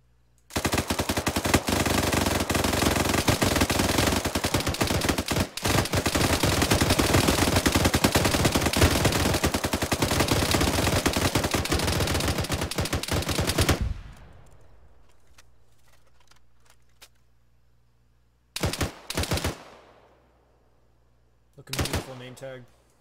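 A vehicle-mounted machine gun in a military video game fires long, loud, continuous bursts for about fourteen seconds, then stops; two short bursts follow after a pause.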